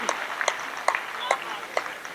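Sparse, scattered clapping rises from an audience at a Hindi comedy poetry recital, the claps coming in loose bursts over a steady room murmur.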